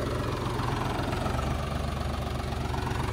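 A 12-tyre tractor engine idles nearby with a steady low, knocking rumble, fairly loud and unbroken, with no talking.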